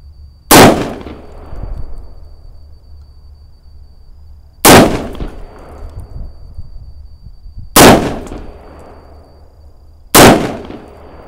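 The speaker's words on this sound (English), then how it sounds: "Shoot the bottle." Four sharp gunshots at a shooting range, spaced a few seconds apart, each a loud close crack with a ringing tail as a bottle target is hit, with no talking in between.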